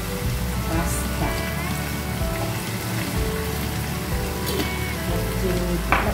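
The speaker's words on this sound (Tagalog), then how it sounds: "Prito-prito na yung sauce." Steady sizzling and crackling of pasta sauce frying in a pan, a continuous hiss with scattered pops, close and moderately loud, with no talking.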